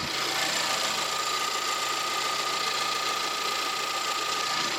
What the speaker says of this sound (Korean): 엔진 룸 열어놨고요 엔진 소리 한번 들어볼게요